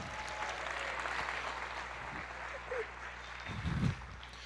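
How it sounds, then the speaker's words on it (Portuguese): A church congregation applauding during a Portuguese-language sermon, a soft, distant wash of clapping from a large crowd, with a low hum underneath and a brief voice near the end. "Você pode aplaudir o Senhor"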